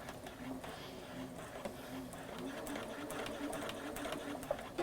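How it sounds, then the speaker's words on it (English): A sewing machine runs a steady straight stitch at a very short stitch length, a continuous close mechanical whir with fine rapid ticking that holds evenly throughout. "You are then going to just straight stitch."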